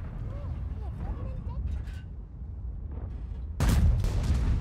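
A tank cannon in the video game World of Tanks fires one sudden, loud, booming shot near the end, after a stretch of quieter game sound and faint speech.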